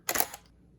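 A single-lens reflex camera shutter fires once at 1/25 second and f16, giving a short, crisp mechanical clack that lasts about a quarter second before it falls silent.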